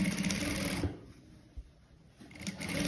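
Sewing machine stitching the sleeve of a frock: a fast, steady mechanical whirr runs, pauses for over a second with a soft knock, then starts up again, close and fairly quiet with no speech.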